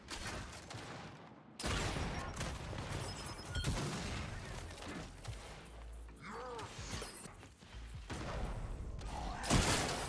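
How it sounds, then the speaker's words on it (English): Sniper rifle shots in the Gears 5 video game, ranked Control mode: a few sharp, loud cracks spaced several seconds apart amid dense mechanical clatter and battle noise. "I just shot you with the sniper"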